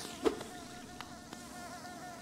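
Insect buzzing from bees in the Hollow Knight video game, a steady faint hum with a few soft clicks and taps over it.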